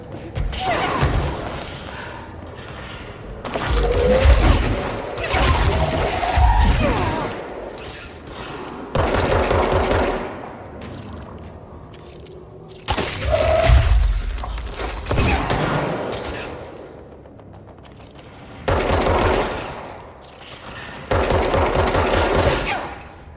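Gunfire in the video game Control comes in bursts of rapid shots and heavy thumps, loud and close, broken by brief quieter stretches.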